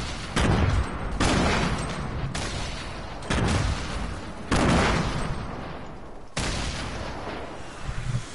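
Video game gunfire rattles out in several loud bursts, each a dense volley that cuts off sharply before the next, with no voices.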